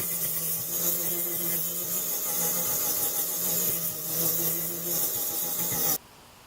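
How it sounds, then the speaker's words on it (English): A metalworker's polishing grinder fitted with a coarse 60 grit head sands through material in a steady, close, loud abrasive whir that stops abruptly near the end. "It's a grinder that metalworkers use to polish metal. It's got a big old 60 grit head on it"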